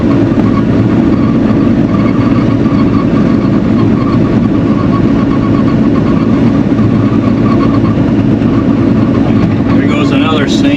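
Loader engine with an exhaust leak idles steadily and close by, a dense low rumble with a raspy chuffing edge running unbroken throughout, with no voices over it.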